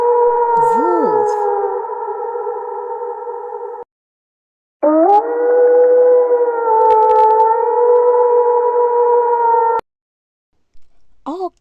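A wolf howls in long, steady sustained tones, loud and close, in two extended howls separated by a brief silence, with a short rising call at the very end.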